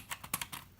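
Keys clack in a quick, uneven burst of typing on an Obins Anne Pro wireless RGB mechanical keyboard, close up and crisp with no talking.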